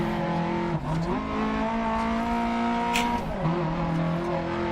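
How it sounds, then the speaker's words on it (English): Lancia rally car engine in DiRT Rally 2.0, a loud continuous rasp with rising revs, two brief dips near 1 and 3 seconds as gears shift, steady and close throughout with no talk. "And this Lancia certainly makes a nice noise."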